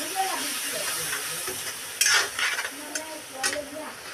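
Singhara fish frying in a spiced onion masala in a pan, with a steady close sizzle and a few louder hissing bursts as the fish is stirred in, with no talk.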